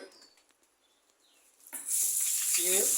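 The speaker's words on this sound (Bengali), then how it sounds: "আগে মাছগুলো একটু ভেজে নেব।" Hilsa fish pieces drop into hot oil in a pan, quiet clinks giving way to a sudden loud, bright sizzle that holds steady to the end.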